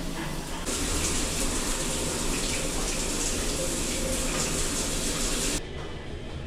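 A shower runs with a steady hiss of spraying water, then turns louder and fuller for several seconds before easing back to a softer flow.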